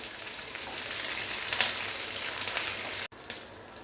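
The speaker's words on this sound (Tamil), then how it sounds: "இது எல்லாமே நல்லா வதங்கட்டும்." Green chillies and curry leaves sauté in a pan for a coriander chutney without coconut, a steady close crackling sizzle with a few louder pops, cut off abruptly near the end.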